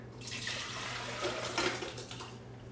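Liquid poured steadily into a cooking pot while making caçoila, a continuous close splashing wash for about three seconds with a faint low hum underneath.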